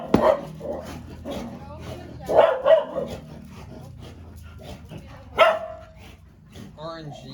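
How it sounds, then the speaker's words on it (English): Several dogs barking in sharp bursts close by, indoors, mixed with a person talking throughout. "sorry about the dogs."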